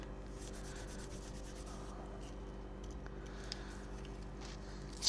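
A Magic Sponge rubs steadily across a black Xbox Series controller, giving a continuous close, soft scrubbing hiss with a few brief louder strokes and no talking.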